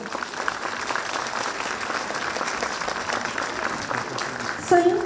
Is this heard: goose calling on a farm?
no